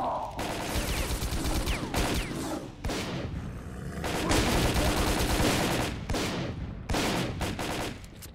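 Dense gunfire from the video game S.T.A.L.K.E.R.: Call of Pripyat, loud overlapping bursts of automatic shots and booming blasts that continue with barely a gap over the whole stretch.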